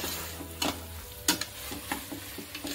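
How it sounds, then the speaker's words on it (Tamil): Chili powder, turmeric, red chili powder and garam masala being stirred in hot oil for a Hyderabadi mutton curry, with a soft steady sizzle and a few scraping stirs, close and fairly quiet. "நம்ம போட்டு நல்லா ஒரு 1 மினிட் கிளறிட்டு"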